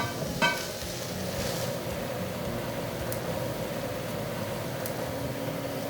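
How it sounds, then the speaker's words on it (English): Fresh mushrooms sautéing in a pan on the stove, a steady broadband sizzle held evenly at moderate level, with one small clink early on and no talk. "Then we'll add the mushrooms. And we're gonna saute these until they're nice and tender."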